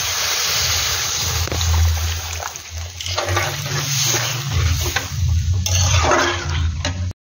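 Warm water pours into potato curry in a pan, a loud, close rushing splash that runs for several seconds with uneven surges before cutting off abruptly.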